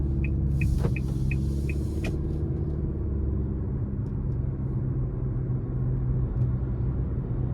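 A 2023 Nissan Altima 2.5 SR with a CVT accelerates under light throttle, giving a steady low engine and road rumble from inside the cabin, with a few brief clicks early on and no talking.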